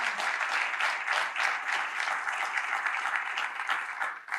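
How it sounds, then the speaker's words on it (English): Sustained audience applause at a civic talk event honouring the moderator, dense steady clapping from a crowd for the full few seconds, fading slightly at the end. "can the audience just give Sydney a huge round of applause?"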